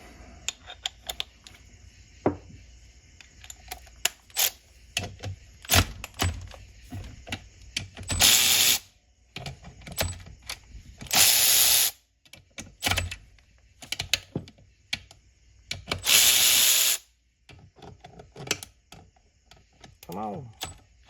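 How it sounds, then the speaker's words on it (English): Short bursts from an electric ratchet spin off bolts during a 727 Torqueflite transmission teardown, broken up by clicks, clanks and small handling noises, with someone talking now and then between the runs. "Makes it a whole lot easier with an electric ratchet"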